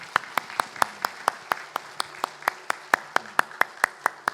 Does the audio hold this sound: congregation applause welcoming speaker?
yes